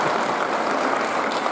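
A comedy show audience applauding, a steady broad wash of clapping, sustained and fairly loud throughout without a break.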